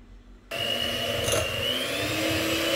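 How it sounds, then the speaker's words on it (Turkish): An electric hand mixer whips cake batter made with sugar, starting abruptly after a moment of near silence and then running as a steady, close motor whine with a constant whirring tone. "Mayonez kıvamına gelene kadar el mikseriyle çırpacağım."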